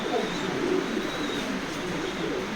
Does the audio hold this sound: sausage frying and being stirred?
no